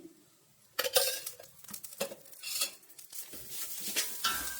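Coconut frying in ghee in a pan is stirred with a utensil, giving scattered scrapes and light metallic clinks in irregular bursts at close range, with no talk.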